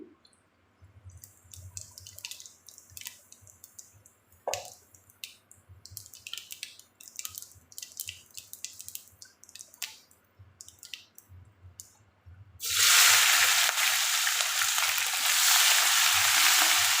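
Cumin seeds sizzling and crackling as they fry in a pan of hot oil, with scattered pops and stirring clicks, then a sudden loud, dense sizzle in the final seconds as more goes into the pan.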